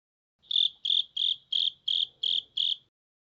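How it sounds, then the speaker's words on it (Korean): Cricket chirping in seven evenly spaced bursts, steady and clear, heard alone at close range against a near-silent background. "오늘도 영어 청취 도우미 귀뚜라미가 함께합니다."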